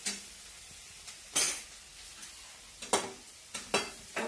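Onions fry in a pan for a dry cauliflower dish, with a soft sizzle underneath and several sharp metallic scrapes and clinks as a spoon stirs and lifts them out.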